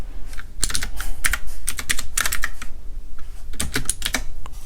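A computer keyboard is typed on to enter a file name. Quick bursts of close, crisp key clicks come in uneven runs with short pauses, and no voices are heard.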